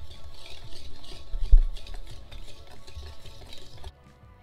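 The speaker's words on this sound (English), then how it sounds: "Now I'm just gonna whisk this together," A whisk swirls through dry cake ingredients, sugar and instant espresso powder among them, in a bowl, making a soft rhythmic rubbing whir for about four seconds before stopping.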